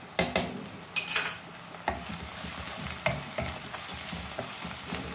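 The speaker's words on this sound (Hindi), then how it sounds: "इसे भी भून लेंगे" Crushed garlic, ginger and green chili frying with onions in a pan for mutton keema, a soft steady sizzle broken by several sharp clinks and scrapes of a spoon stirring against the metal.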